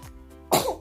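A single sharp, loud sneeze or cough-like burst erupts up close after a brief quiet moment indoors, with nobody speaking.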